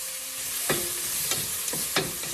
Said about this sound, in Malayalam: ഇത് നന്നായിട്ടൊന്ന് ഇളക്കുക.